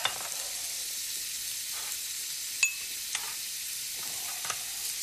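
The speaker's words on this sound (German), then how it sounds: "Lamm Olivenöl. Anbraten. In Olivenöl." Chopped lamb sears in olive oil in a pan, giving a steady, bright sizzle throughout with a few small pops and crackles as the meat is stirred.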